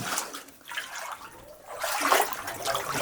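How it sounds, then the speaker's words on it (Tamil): Water from a never-drying temple spring pours and splashes over a stone deity idol, a soft gurgling trickle that swells into a louder, steady gush. "இங்கே ஊற்று மாதிரி வருது இந்த தண்ணி"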